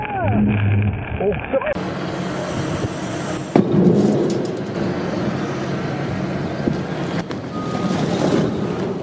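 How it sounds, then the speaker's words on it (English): A powerful tornado tears through a street, its wind a loud, continuous broadband roar with deep rumbling gusts and sudden jolts, while muffled voices sound faintly beneath it. "The wind roars as a powerful tornado tears through the street"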